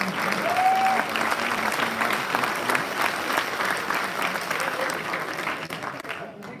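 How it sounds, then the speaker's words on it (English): A round of applause fills a hall at a military wing quarterly awards ceremony, dense and sustained clapping for the nominees that gradually thins out toward the end, with a voice briefly audible at the start. "Let's have one more round of applause for all our airman category nominees"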